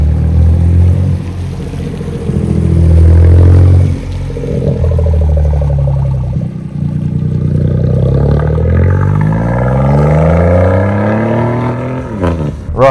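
A BMW 218i three-cylinder with a straight-pipe exhaust revs and accelerates hard, a loud, rasping engine note close by that climbs in pitch through the gears with brief dips between pulls.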